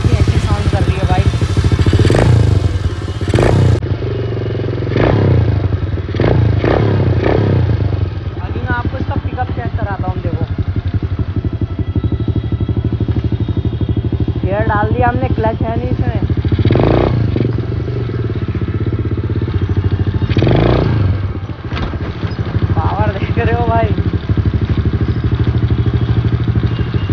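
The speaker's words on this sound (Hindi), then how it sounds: "देख सकते हो किस तरह से आइडल पे कितनी अच्छी साउंड कर रही है भाई" A 125cc street-legal dirt bike idles in neutral after an electric self start, its engine keeping a steady, loud, close thrum while someone talks over it at intervals.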